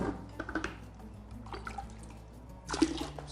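Water poured in a thin trickle to top off a dart frog tadpole container, with soft drips and splashes, quiet and close, and a brief stronger pour near the end.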